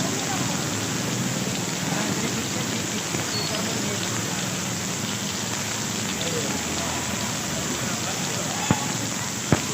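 Heavy rain pours down in Karachi, a dense, steady hiss of drops hitting surfaces, with a couple of sharper knocks near the end and no clear voices.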